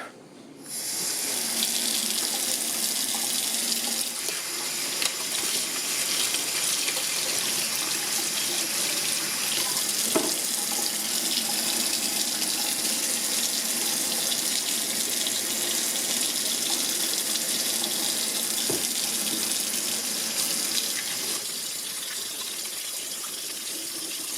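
Tap water runs steadily for the whole stretch, a constant close hiss and splash with a faint click or two, no voices, while an EGR valve is cleaned with an old toothbrush and antibacterial liquid.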